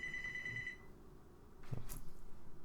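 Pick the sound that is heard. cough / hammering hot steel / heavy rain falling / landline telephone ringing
landline telephone ringing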